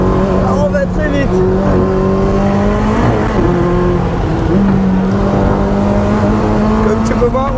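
A sports car engine drones at high revs on a track with shifting pitch as it speeds along, and people talk in French over the steady roar.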